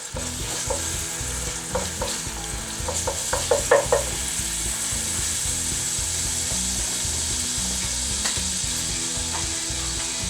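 Spices and Provençal herbs stirred into a sizzling pot of ratatouille, with steady frying hiss throughout and a cluster of scraping spoon strokes against the pot early on, close and fairly loud.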